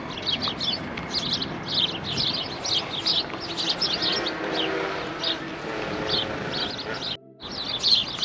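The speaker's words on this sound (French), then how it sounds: "Écoutez les oiseaux." Many small birds chirp and tweet steadily throughout, bright overlapping calls over a soft outdoor background, with a brief dropout near the end.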